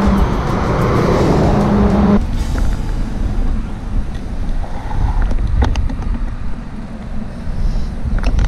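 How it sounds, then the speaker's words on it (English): Strong wind roars and buffets the microphone, loud at first then easing into gusty rushing with scattered knocks. "Super windy, but it's in the right direction."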